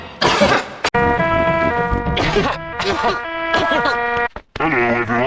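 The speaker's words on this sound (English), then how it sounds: "Caught Pedro's cough, have we?" A character in a Peppa Pig cartoon coughs, short bursts set among animated dialogue and music, loud and close.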